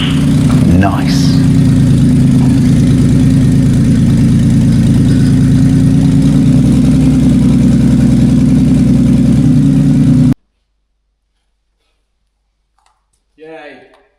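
A BMW E36 with a swapped-in M54 engine and no exhaust fitted runs at a loud, steady idle with a rattly low rumble, then cuts off abruptly; a brief voice follows in the silence.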